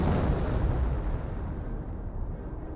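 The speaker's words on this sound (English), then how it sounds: "artillery barrage now raining on in" An artillery barrage in Company of Heroes 1: a heavy, rumbling mass of explosions booming together, loud at the start and then settling into a continuous low roar.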